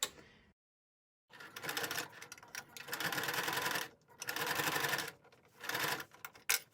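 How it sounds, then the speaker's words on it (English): A sewing machine stitches the top seam of a fabric AB mask in several loud, rapid bursts, separated by brief pauses as the fabric is guided along a curve. "I'm just sewing the top together"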